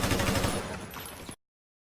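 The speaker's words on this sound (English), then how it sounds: "What's that gunfire?" Rapid automatic gunfire from the anime Gun Gale Online rattles in a dense, loud burst of overlapping shots for over a second, then cuts off abruptly into silence.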